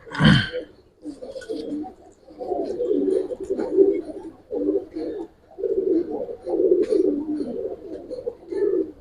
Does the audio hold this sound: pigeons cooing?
yes